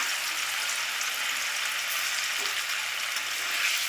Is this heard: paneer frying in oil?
yes